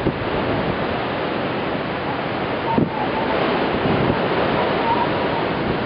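Ocean waves breaking on a beach during a November nor'easter, a continuous loud roar of surf and wind buffeting the microphone with no clear pauses between breakers.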